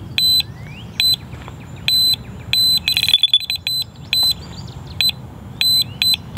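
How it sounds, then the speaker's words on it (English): A carp fishing bite alarm on the line gives repeated sharp electronic beeps in irregular bursts, close and fairly loud, with a short harsher burst midway and a low outdoor background, no talk. "this right here is a bite alarm, and you can see it beeps whenever something touches the line"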